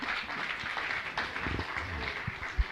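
Audience applause at a Jain religious discourse gathering, a steady wash of many hands clapping throughout, fairly even in loudness with no voices standing out.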